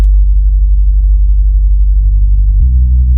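A steady, pure low sine-wave sub bass tone for drum and bass hums continuously, stepping up slightly in pitch near the end with a faint click at the change.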